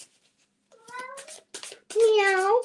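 A pet cat meows several times in a living room during a live chat hangout, with short separate calls that build to a longer, louder meow near the end.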